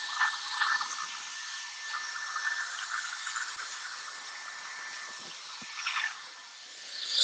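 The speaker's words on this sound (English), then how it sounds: "blow dry the hair" A handheld blow dryer blasts steady broadband air while hair is being blow-dried for styling, its whoosh shifting slightly in strength as the nozzle moves, then rising louder at the end.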